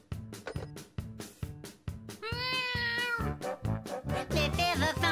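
A cartoon pregnant cat gives a run of short meows over a rhythmic musical backing, followed by a longer, drawn-out wavering meow and more quick calls, all close and clear.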